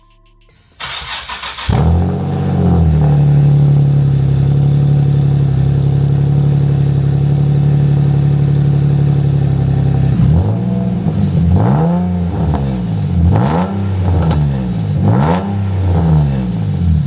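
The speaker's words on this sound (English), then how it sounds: "The Flash Shark exhaust completely changed the way this car sounds" Nissan 370Z fitted with a Flash Shark dual exit exhaust cranks and fires up, settles into a loud steady idle burble, then throws a series of sharp rhythmic revs that swell and drop repeatedly, close and clear without talk.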